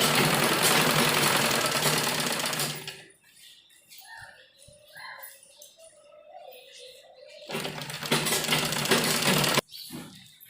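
A sewing machine stitches a frock seam in loud, fast, continuous bursts. The first burst runs about three seconds, followed by a quieter pause with faint handling sounds, then another burst near the end.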